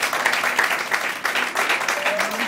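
Audience applause at a concert in Naples with piano, bass and other musicians, a steady patter of clapping from a crowd that continues throughout.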